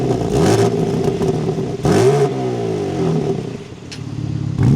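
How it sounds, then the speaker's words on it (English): A 2025 BMW M3 Competition engine cranks and fires up, then revs sharply several times, the pitch rising and falling with each blip before settling into a throaty idle. "let's start this up and take a listen to how the M3 sounds"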